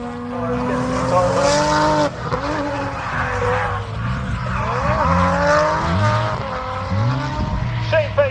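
A BMW drift car at Castle Combe circuit bounces off its rev limiter, a loud, sustained, stuttering engine howl with wavering pitch and faint tire squeal, while a commentator talks over it.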